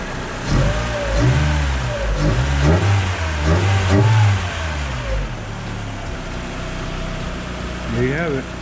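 A 1987 Honda Prelude Si with a cold air intake runs and revs nearby, its engine note rising and falling in several pulls before settling to a steady idle. A voice talks over the engine.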